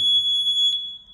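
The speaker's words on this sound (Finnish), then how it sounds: "piippaus kuuluu ja kyllä näyttö lähtee päälle" The remote control of a new outboard motor powers on with a single steady electronic beep, a clear, high, sustained tone that sounds close and alone before ending abruptly.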